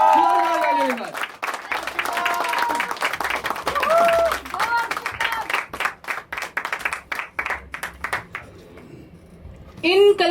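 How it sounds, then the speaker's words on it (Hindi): Audience applause at a stage talk, with sparse, rhythmic hand claps over a loud voice that keeps talking, fairly close and lively. "जोरदार तालियों के साथ दोस्तों"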